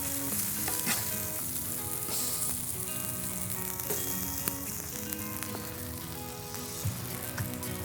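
A burger bun toasts on a hot griddle, giving a continuous close sizzle with crackling pops and occasional scraping or clinking, no voices present.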